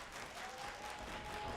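A crowd at a Phoenix Pro Wrestling show claps steadily, a dense, even wash of applause from many hands heard at a distance, with no single voice standing out.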